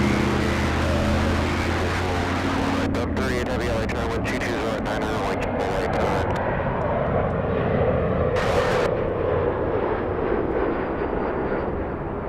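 A Delta jet departs Los Angeles airport for Atlanta, its deep, loud engine rumble rolling on continuously beneath intermittent talking.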